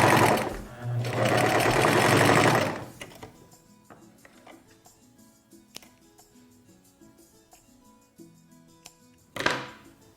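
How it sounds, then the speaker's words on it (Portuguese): Sewing machine running a straight seam along the fabric edge, a loud rapid mechanical whir for a couple of seconds, then quiet clicks and handling, and a second short burst of stitching near the end. "E vamos passar a costura bem na beiradinha."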